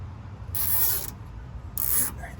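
A zip tie being snipped with cutters while fastening lines to hoses during a Progressive add-a-leaf suspension install: two short, crisp bursts of clipping noise about a second apart, close and fairly quiet.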